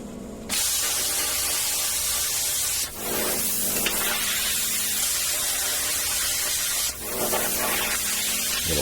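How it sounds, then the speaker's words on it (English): A saw cuts along a squared line in metal for a winch mount stand up to hold a fairlead, giving a loud continuous rasping hiss broken by two brief pauses. "Just using the square as a guide to cut along the line there for the stand up so they're going to hold the fair lead."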